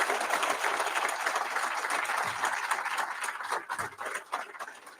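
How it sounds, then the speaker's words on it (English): A room full of people at a prison reentry program graduation ceremony gives sustained applause, a dense wash of clapping that stays steady, then thins into scattered claps near the end. "would you please give them a big, gigantic round of applause?"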